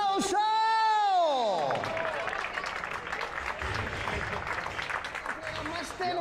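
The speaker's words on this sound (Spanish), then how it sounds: "¡Venga, el aplauso!" An audience at a trail-running race trophy ceremony applauds in a steady, dense clatter of clapping that fills the space, opening under a brief amplified voice or tone.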